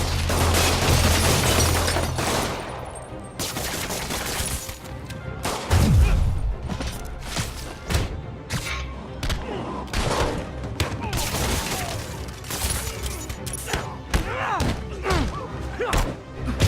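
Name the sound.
gunfire from thugs in Spider-Man PS4 video game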